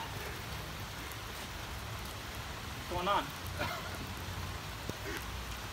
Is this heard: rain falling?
yes